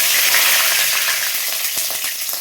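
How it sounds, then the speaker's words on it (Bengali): Whole spices—cinnamon, cloves, cardamom and bay leaves—sizzling steadily in hot oil in a pan, a loud, dense crackle with small pops, close up and with no talking, while cooking a country chicken curry. "তেল গরম হয়ে গেছে, এবার দারচিনি, লং, এলাচ দিয়ে দিচ্ছি।"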